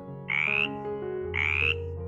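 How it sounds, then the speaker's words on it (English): Two loud, close frog croaks, each a rising buzzy call, separated by about a second over a steady low hum. "It's a frog."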